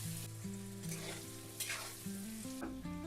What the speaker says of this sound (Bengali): খানিক নাড়াচাড়া করে আলুটাকে লাল করে ভেজে নিতে হবে